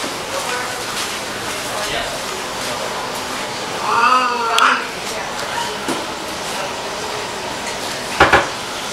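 A cat gives a short, wavering meow partway through, followed later by a sharp clatter, against a quiet indoor background.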